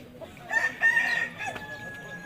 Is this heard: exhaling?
no